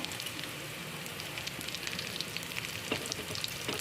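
Ginger frying in a pan for ginataang sigarilyas, a steady, close crackling sizzle with a dense spray of fine pops that carries on evenly throughout, with no voices.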